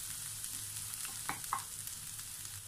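Garlic sizzles in a wok while being stir-fried until brown, a soft continuous frying hiss with a few quick scraping strokes of the spatula near the middle, quiet and close, with no talking.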